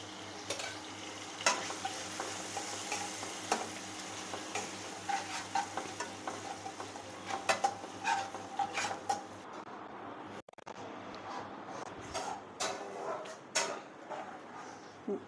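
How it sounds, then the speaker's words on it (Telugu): Chicken 555 with yogurt and coriander is stirred in a pan on a low simmer: faint, gentle sizzling broken by irregular spoon scrapes and clicks against the metal. "బాగా సిమ్లో పెట్టుకొని ఈ విధంగా కలుపుకుంటూ ఉండాలి"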